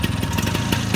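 A restored 125 cc Indian motorcycle engine runs steadily up close, a loud, even chugging idle with rapid regular firing pulses and no voices over it.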